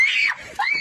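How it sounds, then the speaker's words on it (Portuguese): A man screams loudly in a movie scene, a prisoner trapped in a deadly fog. There are two piercing, strained shrieks with a short gap between them, close and harsh. "Ele chega a dar um gritão lá"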